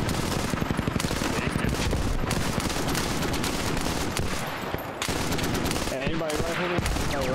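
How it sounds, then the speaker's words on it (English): Machine gun nest in the military shooter Squad firing long, rapid bursts of heavy automatic fire, loud and sustained with a short lull midway and scattered other gunfire around it, while voices talk faintly underneath. "We have an MG nest hitting it."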